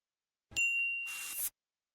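A single bright notification bell ding rings out alone, followed by a short airy shimmer that cuts off cleanly.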